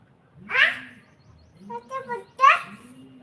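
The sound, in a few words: pigeons cooing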